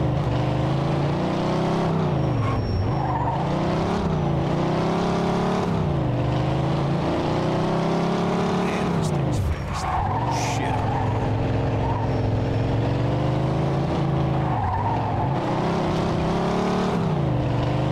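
A car engine in the video game The Betrayal of Jimmy drones steadily and loudly throughout, its pitch repeatedly rising and falling as the vehicle speeds up and slows, with no talking heard.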